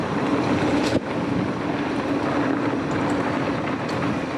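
Steady, loud headwind buffeting the microphone while cycling along a gravel bike trail near Scar House, a continuous roaring rush with no voices.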